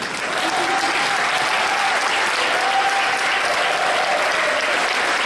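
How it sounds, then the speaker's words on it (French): An audience at a live improv show applauds continuously, a dense, even wash of many hands clapping that holds steady throughout. "on va vous demander d'applaudir avant qu'on joue"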